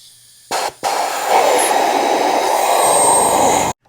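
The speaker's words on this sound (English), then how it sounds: "We're gonna use the air compressor now to blow it all out" A compressed-air nozzle from an air compressor blasts into a seized engine's cylinder, first as a short burst and then as a loud, steady hiss lasting about three seconds before cutting off abruptly, close and without talking.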